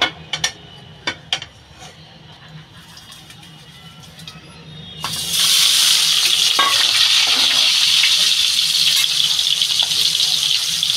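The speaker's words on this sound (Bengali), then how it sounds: "তেলটা আমার গরম হয়ে গেছে, আমি ডিমটা ঢেলে দেবো।" Beaten egg hits hot oil in a wok for a Bengali egg posto dish, bursting into a loud, sustained close sizzle after a few light clinks and taps in a quieter kitchen.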